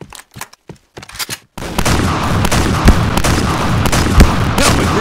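Rapid video game gunfire rings out in dense, loud bursts, with sharp single shots and machine-gun-like volleys over a booming backdrop, following a few brief sparse pops at the start.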